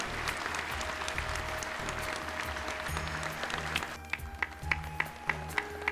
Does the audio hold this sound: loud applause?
yes